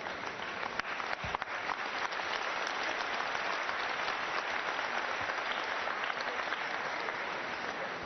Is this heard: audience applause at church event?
yes